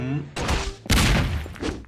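A bomb blast in a Doraemon video game booms twice in quick succession, loud and close, with a person talking over the game sounds.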